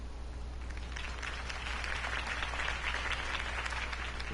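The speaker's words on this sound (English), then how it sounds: "could have heard that applause" A video game crowd in Batman: The Telltale Series applauds continuously, a dense wash of many hands clapping that swells slightly in the middle over a low background hum.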